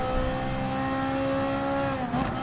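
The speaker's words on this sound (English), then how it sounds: "The engine sound is really good right now" Race car engine in Gran Turismo Sport during a 60-minute endurance race on the Nürburgring, holding a steady, loud, continuous drone with a slight pitch dip near the end, alone without talk.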